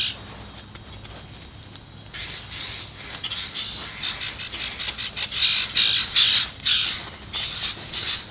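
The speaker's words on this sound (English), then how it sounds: "Lots of bird action this morning." Birds squawk and caw outdoors on a spring morning near a garden workspace, a rapid burst of harsh calls building from sparse chirps to a loud, dense chorus.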